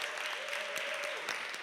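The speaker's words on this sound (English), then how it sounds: "Let's give him a round of applause." A church audience applauds the pastor of Salt and Light Church at a city budget town hall, a steady wash of clapping filling the whole short stretch.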